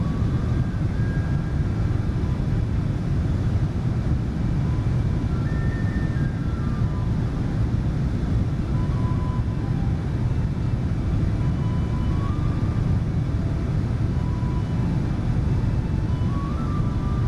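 Steady airliner engine drone in Microsoft Flight Simulator, climbing on a flight from Dublin to Venice; a continuous even rumble with no talk.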